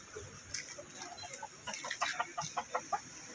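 Backyard hens kept as farm pets rather than gamecocks cluck in a series of short, clear calls that grow more frequent and rhythmic toward the end, set against a low rustling background.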